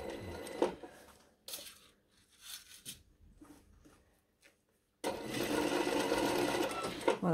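A sewing machine stitches a seam on a long dress lining, running in short bursts with pauses, then a steady, close, sustained run at the end.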